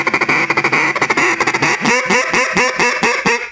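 A duck call blown in a rapid feed call, a loud close run of clipped chattering notes followed by aggressive raspy quacks in a steady rhythm, with no talking.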